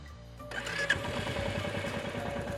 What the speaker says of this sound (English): as you crank the engine, you'll notice that it's not the same old 350cc